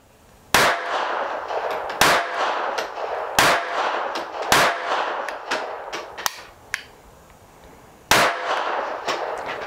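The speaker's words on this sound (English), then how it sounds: "I'm going to go ahead and rack the slide on this one." The slide of a Taurus PT 22, a sub-compact .22 semi-auto pistol, is racked repeatedly, giving sharp metallic clacks at irregular intervals, close and loud, with faint handling noise between them.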